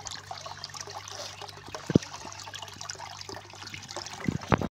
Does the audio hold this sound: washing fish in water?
yes